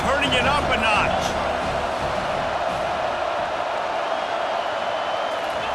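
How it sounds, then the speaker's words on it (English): A stadium crowd in the EA Sports College Football 25 video game roars steadily at a dense, loud level, swelling briefly at the start, with a commentator speaking over it. "this crowd is turning it up a notch"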